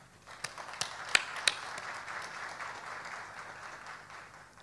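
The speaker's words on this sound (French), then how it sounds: "Ces jeunes méritent vos applaudissements." Audience at a central bank event for young entrepreneurs breaks into applause, opening with a few sharp, separate claps that quickly blend into a fairly quiet, steady patter of hands that fades slightly toward the end.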